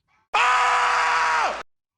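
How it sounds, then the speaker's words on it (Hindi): A person lets out one loud sustained scream lasting over a second, cutting off abruptly, in a Hindi comedy scene. "और भी जोर से चिल्ला।"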